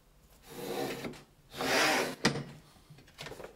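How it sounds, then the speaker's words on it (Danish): A board cutter's arm slices through a full sheet of cardboard: a rasping, scraping stroke followed by a second longer cut and a sharp knock as the arm comes down, close and moderately loud with no talking. "Lukker armen ned og kan skære."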